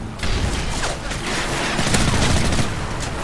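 Dense, continuous gunfire from Call of Duty Modern Warfare 3 in a Domination match, rapid overlapping shots and bursts filling the whole stretch at steady loud level.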